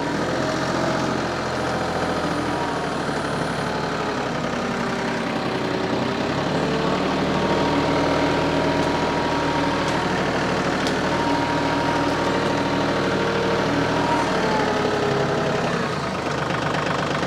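A tractor engine runs steadily and loudly throughout, a constant low rumbling drone with no talking.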